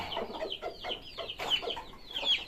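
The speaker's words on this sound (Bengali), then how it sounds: "দেখুন মোরগা কি করতেছে" Rooster in a backyard coop among hens, chicks and pigeons, giving a series of close, repeated clucks and short calls in an uneven rhythm, no talking.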